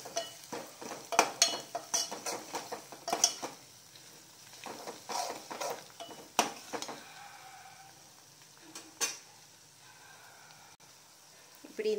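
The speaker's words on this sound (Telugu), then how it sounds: "1 స్పూన్ మిరప్పొడి, 1/2 స్పూన్ పసుపు వేసుకొని ఒకసారి బాగా మిక్స్ చేసుకోవాలి." Chili powder and turmeric are stirred into a dish on the stove, with soft intermittent clinks and scrapes of a spoon against the pan over a faint sizzle.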